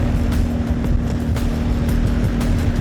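A motorbike engine droning steadily and loudly up close while trailing inline skaters in a World Skate Marathon Tour race in Shanghai, a constant hum with faint rhythmic swishes over it.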